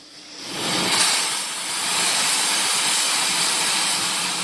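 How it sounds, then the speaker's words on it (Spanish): Dozens of antique engines run together inside an engine museum in Vista, California, near San Diego, making a loud, steady hissing, steam-like roar that swells in within the first second and holds on without a break. "su sonido llena el Museo de Motores Antiguos en Vista, California, cerca de San Diego, donde hay docenas de máquinas funcionando."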